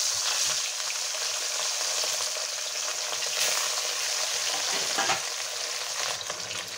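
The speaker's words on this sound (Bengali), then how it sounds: "বাকি মাছগুলো আছে সেগুলোকেও আমরা ভেজে নেবো এক এক করে।" Pieces of rohu fish frying in hot oil, a steady dense sizzle running throughout with faint stirring clatter and a brief sharper spatter near the five-second mark.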